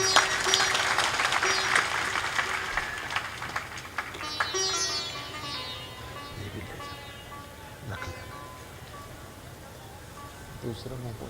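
An audience at a religious satsang gathering claps for donors receiving certificates, a burst of scattered applause mixed with music in the first seconds, then fading beneath someone speaking.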